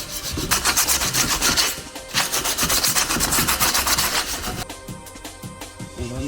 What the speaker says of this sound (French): On ponce les pièces pour les préparer pour la peinture.